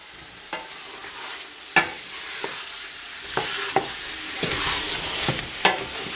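Meat dusted with ras el hanout is stirred in a hot pan for Tunisian couscous, with soft sizzling under sharp, irregular scrapes and clacks of the utensil against the pan.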